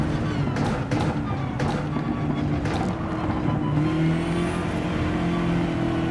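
BMW GT3 race car engine under full throttle in the video game Gran Turismo 7, a loud sustained drone holding steady and rising in pitch toward the end, with no speech over it.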